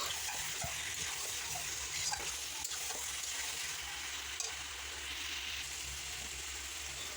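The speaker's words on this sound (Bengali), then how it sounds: "কষিয়ে নেওয়ার মাঝে জিরে, মরিচ, ধনিয়ার গুঁড়ো আর গরম মশলা দিয়ে খুব সুন্দর করে কষিয়ে নিতে হবে।" Cumin, chili, coriander powder and garam masala sautéing over low heat for a chicken curry, a continuous close sizzle with soft stirring scrapes and occasional light taps against the pan.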